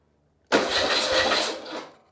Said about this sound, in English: this device allows me to turn the ignition off, but crank the starter